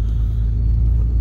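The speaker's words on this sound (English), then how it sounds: "Whose truck is that?" A truck rumbles close by at a building site with a deep, loud, steady low engine drone that fills the moment without any talking.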